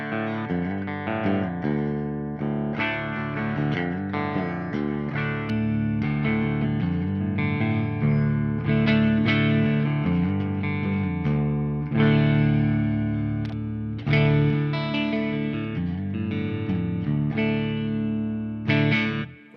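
A Gibson electric guitar played clean through an amp preset in Logic, a continuous phrase of ringing chords and single notes with warm, rounded sustain, loud and alone for nearly twenty seconds.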